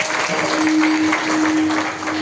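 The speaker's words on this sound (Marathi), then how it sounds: "माझ्या ज्योतिराव फुल्यांकरता जोरदार टाळी वाजली." Loud, dense applause from an audience at a kirtan, steady clapping sustained for a couple of seconds with a faint held tone underneath.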